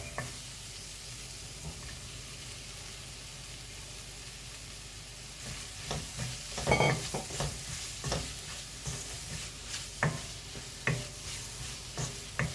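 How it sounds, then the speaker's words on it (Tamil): Brinjal sautéed with masala in oil fizzes softly in the pan while a utensil stirs it, with scraping strokes that grow busier toward the end. "மசாலா போட்டு நல்லா வதக்குனதும் நம்ம கத்திரிக்காய் போட்டுக்கலாம்"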